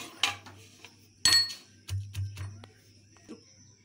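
Garlic, green chillies and ginger pounded together, with a few hard metallic knocks and clanks of a pestle in a mortar, close up, separated by quieter scraping.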